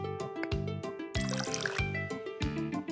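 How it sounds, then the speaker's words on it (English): Hot milk pours from a jug over cocoa in a mug, a steady close liquid trickle and splash under soft repeated musical tones, with no voices. "Now we need to pour hot milk over the cocoa."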